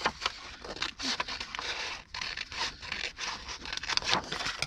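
Scissors cut a strip off the bottom of a handmade paper folio at close range, a run of crisp, scraping snips and paper rustles in a quiet room with no talking.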